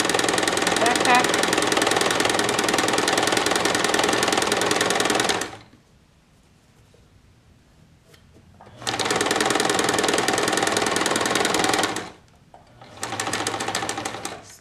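A sewing machine stitches a cloth face mask in steady, loud bursts: a long run of rapid stitching, a pause, another run, then a shorter burst near the end.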